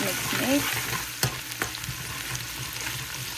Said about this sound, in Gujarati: લસણ થોડુંક શેકાવા દઈએ ને પછી નાખીશું ભીંડા એમાં